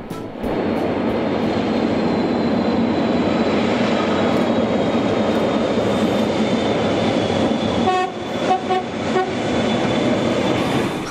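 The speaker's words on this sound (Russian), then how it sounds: "Посмотрим на газотурбовоз на видео" A gas turbine locomotive running with a loud, steady roaring whine and rumble, broken near the end by a few rhythmic clanks as wheels pass rail joints, no voices.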